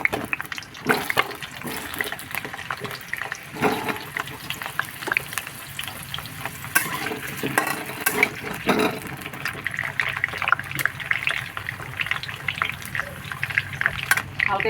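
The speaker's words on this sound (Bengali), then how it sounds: "তেলে আমি মাংস আলুগুলো ভেজে নেব।" Chicken pieces and potatoes fry in hot mustard oil for a Bengali chicken curry, giving a steady close sizzle and crackle with occasional stirring clatter, no voices over it.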